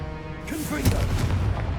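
A Confringo blasting spell goes off in Hogwarts Legacy as one booming burst with a crackling tail, loud and near, over a steady game backdrop.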